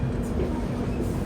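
Karnataka Sampark Kranti Express, Hazrat Nizamuddin to Yesvantpur train 12650, running along the line as a steady low rumble and rolling rail noise, continuous and fairly close, with no voices.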